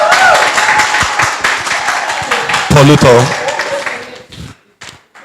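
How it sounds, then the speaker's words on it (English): Audience clapping at an education forum as a speaker is welcomed to the microphone, dense applause under a voice announcing a name, with brief tonal speech near the end before the clapping fades out. "With a round of applause."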